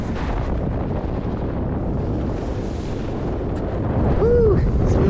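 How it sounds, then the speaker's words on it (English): Strong offshore wind gusts roar across an open microphone during a wing foil competition off Hawaii, a steady loud rush that swells louder near the end, with a brief faint whistle-like tone. "Here comes the wind."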